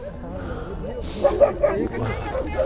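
An East Siberian Laika barks at a republican hunting Laika show in Yakutia, giving a few short, sharp barks in quick succession over steady background talk and crowd noise.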